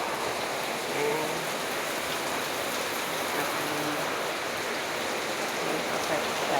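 Steady rain falls continuously on a surface, a dense, even hiss with soft patter of drops throughout, fairly close and without any talking.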